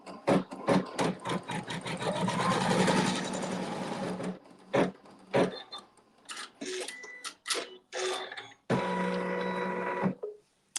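A sewing machine stitches a quilt seam on a half-square-triangle block, running in a fast loud mechanical chatter, then stopping and restarting in short bursts with clicks between runs.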